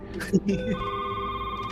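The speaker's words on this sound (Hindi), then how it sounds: "फोन आया" A telephone rings in a tense scene, its steady electronic tone held under brief overlapping talk and background noise.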